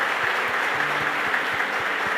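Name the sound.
congregation applause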